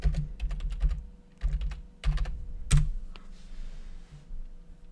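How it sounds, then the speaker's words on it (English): Keys clatter on a computer keyboard as a search term is typed, coming in short quick bursts separated by brief pauses, close and clear with no voices. "Let's type Open-Sankore."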